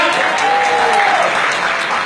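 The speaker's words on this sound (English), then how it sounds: "Can you clap your hands for that?" Steady, loud applause from a large audience at an AIMGLOBAL recognition rally in Kenya fills the whole stretch, a dense wash of many hands clapping at once with a faint held tone above it.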